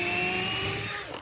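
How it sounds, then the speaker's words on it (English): A cordless drill bores a hole on a weakening battery, its motor whine droning steadily and then sagging and cutting out near the end, close and fairly loud. "when I go drill this hole, get stuck"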